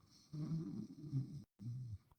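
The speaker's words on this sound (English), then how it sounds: "that's me snoring" A man snoring in a podcast recording, two slow, rumbling inhalations separated by a brief silent gap, close and quiet.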